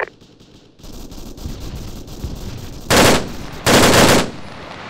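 Machine-gun fire in Arma 3, a military shooter: faint distant shots early on, then two loud sustained automatic bursts near the end with no talk.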